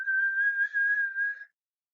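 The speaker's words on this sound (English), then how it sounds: "It's somebody whistling." A single steady whistled tone held for about a second and a half, clear and close, then silence.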